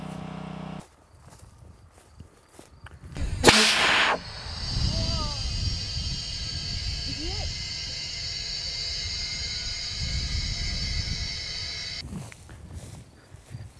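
Air cannon firing a potato at 100 PSI: a sharp, loud burst of released air hisses briefly, then a long steady hiss of escaping pressure follows, with a few voice-like squeaks over it before it cuts off.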